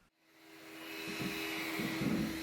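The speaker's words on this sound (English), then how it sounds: "can you vacuum the floor please?" A vacuum cleaner starts up and settles into a steady, loud whine with a low droning hum.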